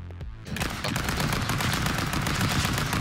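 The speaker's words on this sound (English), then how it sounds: "I didn't pick up a gun, I get mag dumped and then that's it!" Rapid, dense gunfire from the Stick Fight video game starts after a short pause and keeps up as a loud, continuous stream of shots, like a weapon emptying its whole magazine.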